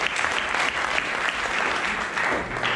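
Dense, steady applause from an indoor crowd at a trail race welcome event greeting runner Romain Berger on his arrival, loud and continuous throughout.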